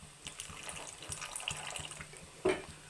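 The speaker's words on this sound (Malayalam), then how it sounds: "ഇതിലേക്ക് കുറച്ച് വിനാഗിരി ഒഴിച്ച് കൊടുക്കുകയാണ്." Vinegar poured into a pan of coconut-milk masala for Kerala-style beef liver fry gives a light liquid trickle and splash, with a soft thud and sharper splash near the end of a short take.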